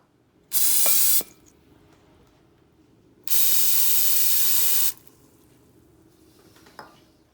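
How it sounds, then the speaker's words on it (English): A spray bottle spritzes water onto the bottom of a bread baking pan in two bursts, a short hiss followed by a longer one, loud and close with no talking. "So we're gonna spritz the bottom of a pan."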